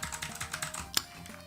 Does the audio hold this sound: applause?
no